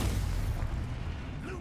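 A Confringo spell explosion in Hogwarts Legacy lands as a loud, deep rumbling boom that carries through the whole brief moment, heavy in the low end and close by.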